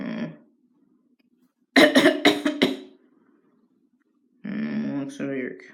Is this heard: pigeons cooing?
no